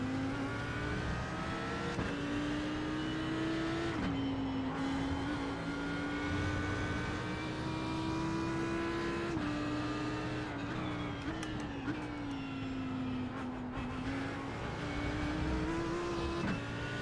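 A race car engine in the iRacing sim at Road America drones continuously through shifts and corners, its pitch rising and dropping with each gear change, loud and steady from start to finish.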